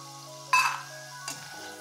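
Peanuts frying in a small amount of oil over a medium gas flame for a poha chivda snack, a steady soft sizzle with two brief louder bursts of crackling as the pan is stirred.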